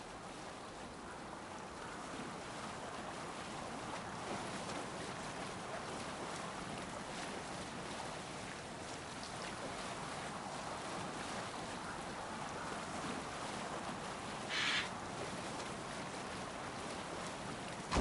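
A ship sails the open sea in Assassin's Creed Valhalla, with a steady wash of waves and wind rolling on without pause and no voices.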